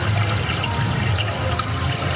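Water rushing and splashing from a jack-o'-lantern waterfall display at a Dollywood harvest festival, a steady continuous pour filling the clip at close range with no talk.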